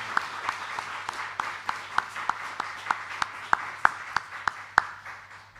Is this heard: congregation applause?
yes